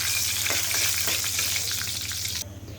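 Bay leaves, dried red chillies, cardamom, cinnamon and cloves frying in hot oil, a loud, dense close sizzle with a few stirring scrapes, cutting off abruptly near the end.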